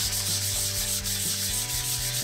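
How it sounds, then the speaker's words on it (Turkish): Sandpaper rubs back and forth over a candle holder made from pruned tree wood, a loud, close, rhythmic rasping in quick repeated strokes with no voices. "Zımparamızı bitirdik."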